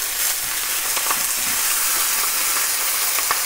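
Baby bok choy sears face down in a hot pan, giving a loud, continuous sizzle and hiss close up, with faint stirring and pops beneath it.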